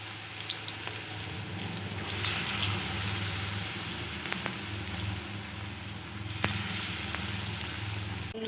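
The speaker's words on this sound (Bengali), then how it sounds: "বেগুনগুলো এখন আমি উল্টে পাল্টে ভালোভাবে ভেজে নেব।" Batter-dipped eggplant slices frying in hot oil, a steady broadband sizzle with crackling pops that holds throughout, close up, with a low hum underneath and no talk.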